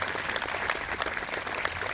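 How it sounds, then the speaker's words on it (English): Audience applause at an outdoor Memorial Day ceremony, a steady wash of many hands clapping at moderate distance, dense and even for its whole length with no voices. "please give all of these members a hearty round of applause"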